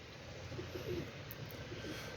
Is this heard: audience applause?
no